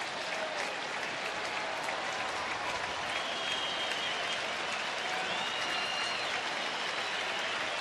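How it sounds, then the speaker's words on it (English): A baseball stadium crowd at a Mariners–Rangers game applauds and cheers continuously, a dense, sustained roar of clapping and shouts heard from the broadcast position with no clear talk on top. "Crowd getting into the action."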